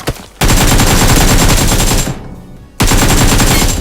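Loud, rapid automatic gunfire from BGMI on Erangel, a dense continuous burst, a brief gap, then another sustained volley, close and alone.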